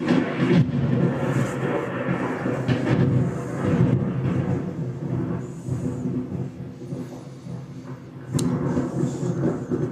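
Sound effect of rumbling thunder rolling loud and close, swelling and fading, with a sharp cracking lightning strike near the end.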